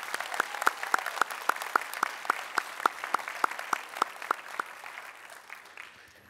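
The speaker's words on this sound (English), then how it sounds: "I think it would be appropriate if we gave everybody a round of applause one more time." Audience at a high school commencement ceremony breaks into sustained applause, many hands clapping in a dense wash with a few sharp, prominent claps standing out rhythmically before the sound thins and fades toward the end.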